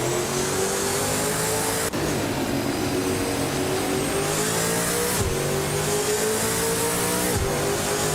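Race car engines rev continuously in a racing video game featuring cars such as a 2019 Ford Mustang, with a loud, steady whine that rises in pitch and shifts sharply at several gear changes, all with no talking.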